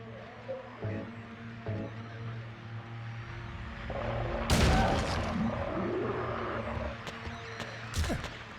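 A rifle in Silent Hill 2 Enhanced Edition cracks out one sharp loud shot midway and a second near the end, against a low droning ambient background.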